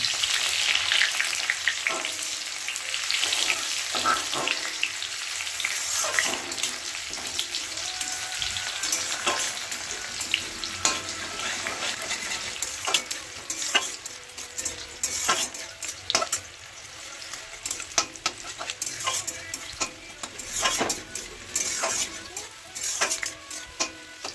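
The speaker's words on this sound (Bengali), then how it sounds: "তারপর একটু নেড়ে নেব।" A spatula stirs onions frying with cumin and bay leaf in a wok, giving a continuous sizzle. Metal scrapes and clinks recur irregularly against the pan for more than twenty seconds, with no talk.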